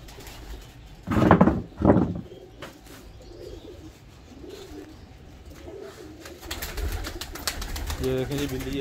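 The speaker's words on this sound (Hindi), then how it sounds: "काशी भाई के घर से कबूतर आए हैं" Two loud, low cooing bursts from pigeons close by in the first seconds, then softer murmuring and background activity with faint voices.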